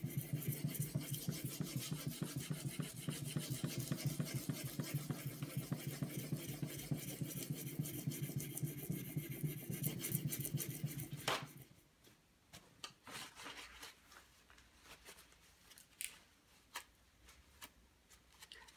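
A Hogue X5 knife blade is drawn across an Edge Pro Apex sharpening stone in quick, rhythmic rasping strokes. The strokes are steady and close for about eleven seconds, then give way to scattered faint scrapes and taps.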